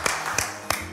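Children clap three separate times, spaced evenly at roughly a third of a second apart, sharp and fairly close, over a faint background hum.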